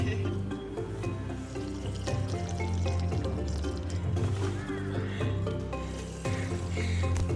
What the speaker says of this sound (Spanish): bebiendo del agua que baja por esta montaña